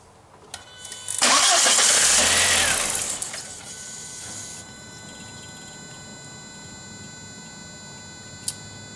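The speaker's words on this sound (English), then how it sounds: "Go ahead and try and start the car." 1999 VW Passat 1.8L turbo engine, a loud whirring crank that catches and roars up after about a second, revs for a few seconds, then drops to a quieter steady idle with a faint fuel pump whine.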